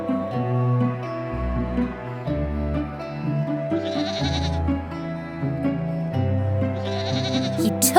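Goats bleating in a children's bedtime story, repeated cries over music, fairly loud and close with no talking.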